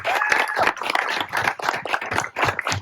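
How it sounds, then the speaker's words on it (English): Audience applause for a speaker being introduced at a campaign-style gathering: dense, steady clapping from a crowd, close and loud, continuing throughout without any speech. "please give it up for Lance Ray Christensen"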